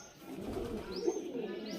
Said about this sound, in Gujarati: એક કબૂતર અહીંયા બેઠું છે